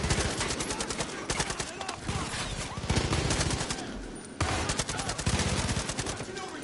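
Silenced AK rifle fire in Far Cry 5 rattles in dense, rapid bursts nearly without pause, loud and close, mixed with game battle noise and no clear talk.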